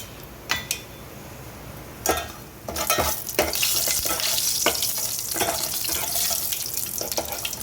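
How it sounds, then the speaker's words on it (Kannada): Dry red chillies and asafoetida hit hot oil in a tempering, with a few sharp clinks first and then a steady, loud, close sizzle and crackle that continues to the end. "ಒಗ್ಗರಣೆ ಆಗಿದೆ."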